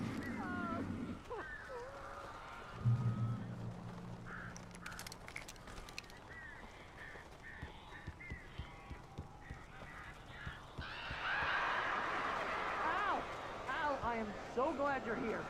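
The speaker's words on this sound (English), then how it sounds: "These birds are weird." Strange birds in the Alan Wake game give harsh cawing calls, a few at the start and a louder, busier flurry near the end, with voices talking in between.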